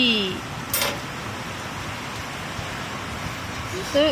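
Steady rain hisses throughout, a dense even wash of noise, with brief voices and a sharp chirp near the start and end.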